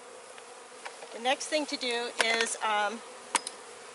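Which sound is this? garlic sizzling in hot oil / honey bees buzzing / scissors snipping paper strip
honey bees buzzing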